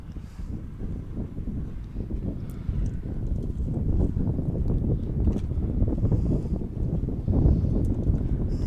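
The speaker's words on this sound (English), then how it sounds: "Windy here at the infield today also." Steady, rumbling wind buffets the microphone at a baseball field infield throughout, a low continuous roar with gusty fluctuations and no voices.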